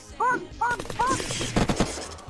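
Gunfire in a video game roleplay server arrives as a rapid burst of several sharp shots after some honking, duck-like calls, with loud, close impacts.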